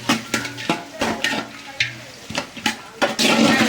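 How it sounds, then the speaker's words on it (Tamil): Onions for biryani are sautéed until brown, with repeated sharp clinks and scrapes of a ladle against a pot over a low sizzle, irregular and close, growing into a louder frying hiss at the end. "நல்லா ப்ரௌன் கலர்ல வதங்கணும்."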